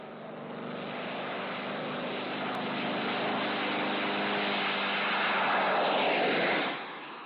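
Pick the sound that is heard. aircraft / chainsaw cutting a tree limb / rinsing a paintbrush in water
aircraft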